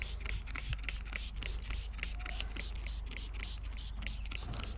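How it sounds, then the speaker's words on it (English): Fabric roof protector sprayed onto a cabriolet's textile roof in a rapid series of short, close hissing bursts, steady and loud throughout, with no talking. "So you just spray it in"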